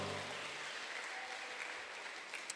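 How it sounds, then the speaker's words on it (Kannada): Applause from a church congregation, steady and fairly faint, a soft continuous patter of many hands clapping together. "ಕರ್ತನಿಗೊಂದು ಜೋರಾಗಿ ನಾವು ಚಪ್ಪಾಳೆ ತಟ್ಟುವ."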